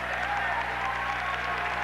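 Large basketball crowd of about 4,000 packed into the UMBC Fieldhouse during a 1988 Towson State game, a steady roar of cheering and applause filling the arena with no pauses.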